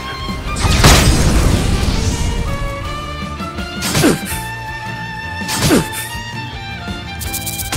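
A fire attack spell bursts in the role-playing game Octopath Traveler II, a loud booming whoosh followed by two more impact thumps, all over sustained musical tones from the battle score.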